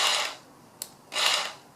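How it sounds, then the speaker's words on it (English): A jigsaw with oscillating motion cuts in close, loud, rasping bursts, with two long strokes separated by short sharp clicks. "Now it's cutting a little faster since I introduced some oscillation there."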